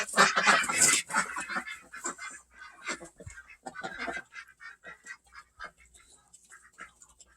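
Backyard ducks and chickens honking and clucking, a loud burst of overlapping calls at the start that thins into scattered, quieter quacks and clucks with gaps of near silence.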